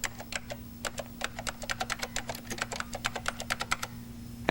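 Rapid keystrokes on a computer keyboard while entering a footnote in spreadsheet software, an irregular run of close, crisp clicks over a steady low hum, with a louder knock at the very end.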